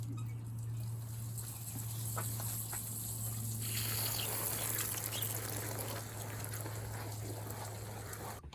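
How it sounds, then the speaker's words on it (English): Water trickles and pours steadily and close by onto newly sown seeds, a soft continuous splashing with no voices. "So let's water in these seeds."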